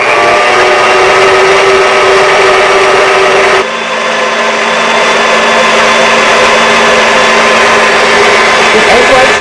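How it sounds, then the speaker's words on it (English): Stand mixer with a whisk attachment whipping egg whites for meringue, a loud steady whirring hum that runs continuously with a slight shift in pitch partway through. "I have my mixer fitted with a whisk attachment, and I'm just going to start these and let them go until they get white and foamy"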